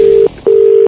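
Two long electronic dialing tones from a telephone, loud and steady, separated by a brief gap, with no voices.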